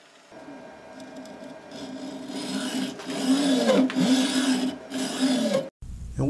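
A lathe takes light cuts on bushing stock while turning bushings for a headlight motor, a raspy, rubbing cutting noise that builds in loudness and ends abruptly, heard close with no speech.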